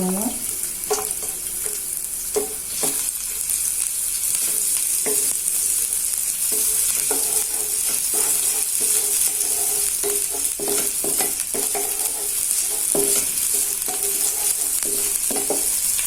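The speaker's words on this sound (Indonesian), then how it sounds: "Nah, di sini sudah saya panaskan minyak. Ini bawang merahnya saya tumis dulu." Shallots sauté in hot oil in a pan, a dense, even sizzle heard up close throughout, with repeated spatula scrapes and taps keeping an irregular stirring rhythm.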